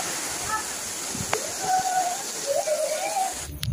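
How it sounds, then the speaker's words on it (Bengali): Heavy rain driven by wind pours down in a steady, loud roar of broadband hiss for nearly four seconds, with faint voice-like tones drifting underneath and a brief dip in the noise near the end. "দেখো কি বৃষ্টি হচ্ছে, বৃষ্টির জন্য আমি কথা বলতে পারছি না"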